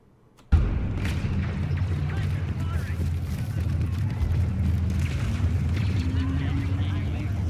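A grenade goes off in the Star Wars Battlefront 2 video game: a sudden loud boom after a brief hush, rolling into a sustained heavy rumble of battle noise for several seconds.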